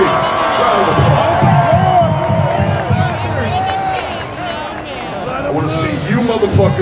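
A large concert crowd at a show in Austin, Texas, cheers and claps loudly and steadily over the whole stretch, a dense roar of voices under heavy low-end rumble.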